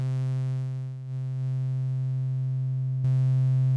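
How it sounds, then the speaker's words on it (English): A synthesizer tone starts as a pure, steady sine wave and morphs into a buzzier double saw wave, rich in harmonics, holding one low pitch throughout with a brief dip and a sudden brighter jump near the end. "I have just a sine wave morphing into a double saw"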